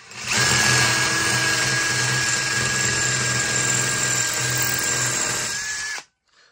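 A combi drill in hammer mode drilling masonry with an impact bit hammers steadily and loudly for about six seconds with a buzzing, rattling drone, then cuts off abruptly.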